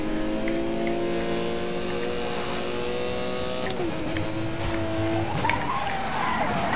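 A light car in the Need for Speed Most Wanted video game skids into a spin on the handbrake, giving a loud, sustained tire squeal over a steady engine drone, with no talking.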